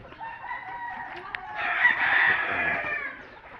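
Gamefowl stags crow at a farm, with a loud, drawn-out cock-a-doodle-doo rising from quieter clucking and background bird calls, heard close and alone.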